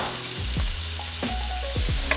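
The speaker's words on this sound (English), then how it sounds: "fry that up" Garlic and thyme fry in butter in a pan, a close, continuous sizzle with a few soft knocks and stirring scrapes.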